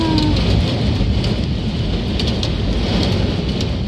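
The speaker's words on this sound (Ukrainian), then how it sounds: "О, град пішов, боже." Hail and heavy rain pour down during a storm in Cherkasy, Ukraine, a dense, loud, unbroken roar of drumming impacts that fills the whole stretch with no voices.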